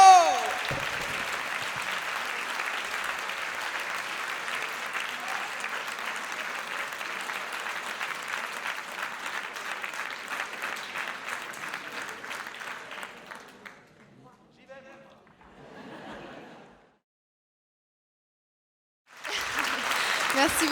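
A French evening event's audience applauds the volunteers with sustained, loud clapping that fades after about fourteen seconds, leaving a brief quiet patch before another burst of applause rises at the end.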